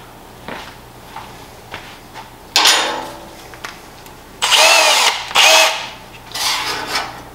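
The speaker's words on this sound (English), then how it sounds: "Go get your drill." An electric drill with a step bit and 1/8 inch bit whirs in several short bursts, the longer runs loud and close, with quieter clicks and handling noises in between.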